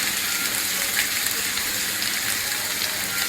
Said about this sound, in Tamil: கையில் கட்டி நல்லா உடைச்சி நல்லா கிளறி வைக்கணும்